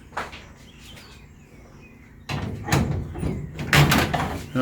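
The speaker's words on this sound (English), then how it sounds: "just open the door." Door of a vintage 1938 SS Jaguar 3½ Drophead being opened in a restoration workshop, a quiet click followed by louder knocks and rattles of the door moving, close and fairly brief.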